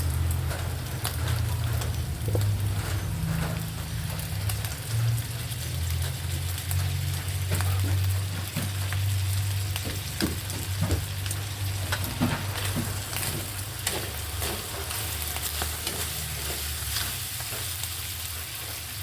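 Radish being stir-fried with oyster sauce in a pan, a steady close sizzle and crackle of frying throughout, with occasional scraping knocks of stirring and no talk.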